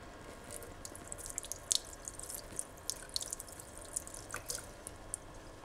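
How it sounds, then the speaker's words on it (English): Distilled water dripping and splashing while a sample holder is rinsed in a lab setting, with irregular close drips and small spatters over a faint steady background. "And then we ensure that it's clean with distilled water."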